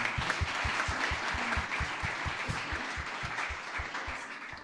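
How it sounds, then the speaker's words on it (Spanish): A church congregation at a Sunday service claps along, a fairly quiet mass of applause with a steady rhythmic beat of low thumps, like a drum or stomping, running beneath it. "¿Cuánto le dan fuerte aplauso al Señor?"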